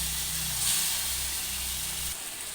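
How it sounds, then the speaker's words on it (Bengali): Chicken being sautéed in a covered pan, a steady broad hiss of steam and sizzle with a low hum underneath that drops away near the end. "এখন ভালো করে একটু ঢেকে ঢেকে সুন্দর করে কষিয়ে নেব"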